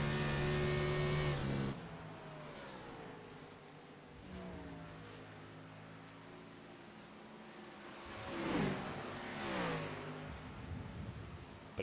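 Race cars on the Atlanta oval in an ORRL Nightmare Cup event accelerate off a turn, engines rising in pitch as they pass at a moderate distance, one swelling louder around the middle before fading, with no talk.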